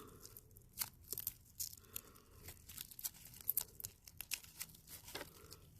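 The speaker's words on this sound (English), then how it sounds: "it takes a while to kind of peel it off of the inside of the drink" A decoration is peeled off the inside of a drink glass, giving small crinkly tearing and crackling sounds in quick irregular bursts, close and fairly quiet, with no talking.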